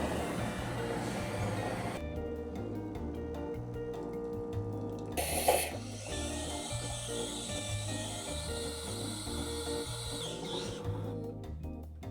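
Espresso machine steam wand frothing milk for a flat white, a steady hiss running throughout at close range, with rhythmic mechanical ticking beneath and a brief louder burst of steam midway; no talking.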